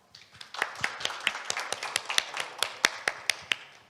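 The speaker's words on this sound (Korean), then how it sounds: "큰 박수 부탁드립니다." At a global ESG forum, a small audience claps to welcome panelists to the stage, a sparse, close patter of individual claps with distinct sharp hits building briefly.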